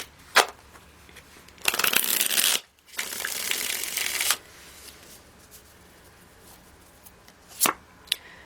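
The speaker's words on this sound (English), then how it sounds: "One more shuffle." Tarot cards being shuffled by hand: two dense riffling bursts of crisp card flutter, separated by a brief pause, followed by a few sharp taps and card snaps, close and alone.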